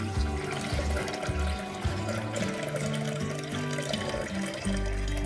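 Water is poured over rice being rinsed by hand and then drained off, a continuous splashing, gurgling rush that stays close and fairly loud throughout.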